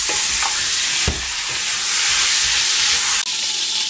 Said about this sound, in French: J'ai mis la viande à revenir avec le beurre et un petit peu d'huile